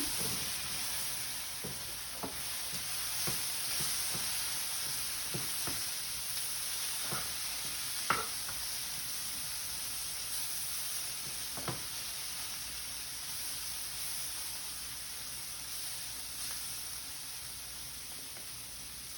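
Spices being stirred into vegetables in a hot pan, with a steady bright sizzle throughout and a few sharp scrapes and clicks of the spoon against the pan, close and moderately loud.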